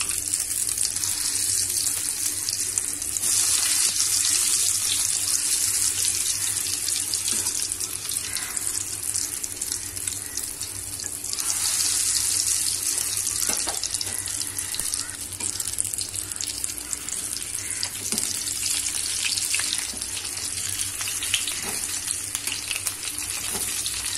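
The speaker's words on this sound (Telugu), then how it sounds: "దీన్ని మీడియం ఫ్లేమ్లో పెట్టి బాగా ఫ్రై చేసుకోవాలి" Deep frying in hot oil over a medium flame gives a steady, loud, bubbling sizzle with a constant hiss that runs unbroken and unvoiced the whole time.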